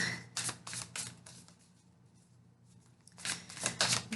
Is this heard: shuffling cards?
yes